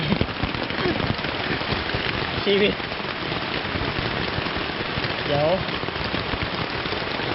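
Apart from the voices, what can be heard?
rain falling in Khlong Wang Chao National Park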